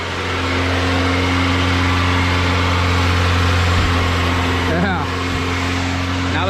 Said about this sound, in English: that is the first start of the B16 swap